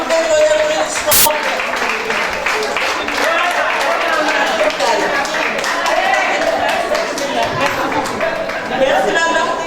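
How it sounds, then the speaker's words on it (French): Audience at a French family-day association event applauds, a dense continuous patter of clapping with crowd chatter throughout, one sharp loud clap burst near the start. "Merci s'il vous plaît pour l'applaudissement."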